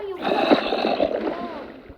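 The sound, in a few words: water splashing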